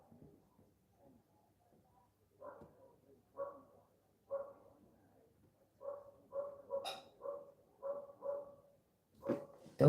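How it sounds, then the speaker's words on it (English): A dog barks in repeated single barks and short bursts, fairly close, growing louder and more frequent toward the end, with a quiet background and no talk. "Dog's really barking."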